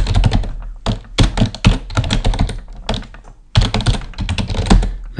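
Close, loud typing on a computer keyboard comes in quick bursts of clattering keystrokes, with short pauses between runs and no speech.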